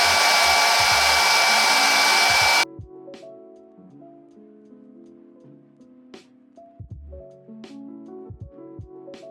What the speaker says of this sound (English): using my blow dryer on a cool setting to just lock all of that in